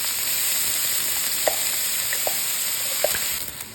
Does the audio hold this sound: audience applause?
no